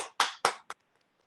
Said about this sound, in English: let's do a real applause